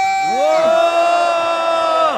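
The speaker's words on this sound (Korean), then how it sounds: "여러분의 큰 함성으로 다시 한번 제2차 송영길 정치탄압 규탄 기자회견을 시작하도록 하겠습니다" A crowd cheers and shouts together in one sustained, loud roar at an outdoor press conference denouncing political oppression. The roar swells in, holds steady for about two seconds, then drops away.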